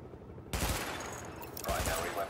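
Weapons in the video game The Division fire at practice targets in a sudden loud volley of rapid shots, then a second burst follows about a second later.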